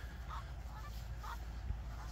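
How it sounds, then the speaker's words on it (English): Canada geese by a riverwalk in the Smokies give a few separate honks, roughly one per second, moderately near over constant low outdoor rumble. "You got the goose with the geese."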